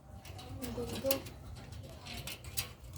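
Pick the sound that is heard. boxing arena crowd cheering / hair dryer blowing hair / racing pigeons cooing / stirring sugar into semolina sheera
racing pigeons cooing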